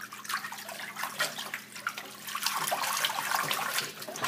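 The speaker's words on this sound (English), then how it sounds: "And then you just swirl it around with your hand." Water swirled by hand in a sink filled to the brim, a close, steady sloshing and churning with small splashes and trickles, fairly quiet and without speech.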